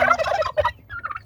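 A male Spanish Slate turkey gobbles loudly and close, a rapid warbling burst followed by a shorter second call, with no voices.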